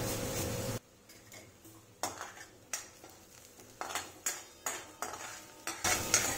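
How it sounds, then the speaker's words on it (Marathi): A spoon stirring chopped onion and ginger in a pan, giving scattered scraping and clinking strokes at an uneven rhythm over a faint sizzle, close and with no voices. "फक्त 1-2 मिनिटं त्याचा हलकासा कलर चेंज होईपर्यंत आपल्याला मिक्स करायचा आहे."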